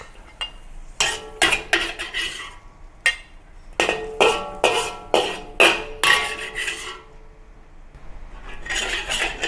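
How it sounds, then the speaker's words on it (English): Metal spatula repeatedly scraping and clanking against a wok while shrimp stir fry is scooped out, sharp rhythmic hits in quick clusters with short pauses between, fairly close and without talk. "Then remove it from the wok."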